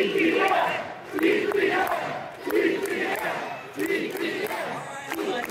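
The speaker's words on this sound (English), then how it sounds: "The crowd even shouted DPM for Pat to show their appreciation for him and his team." Large crowd at a Card Party trading card event chanting "DPM" in loud rhythmic group shouts, the chant repeating in pulses about every 1.3 seconds and swelling and dipping without a break.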